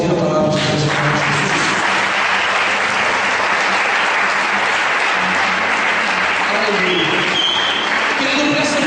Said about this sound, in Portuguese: Querido, você pode aplaudir a palavra de Deus.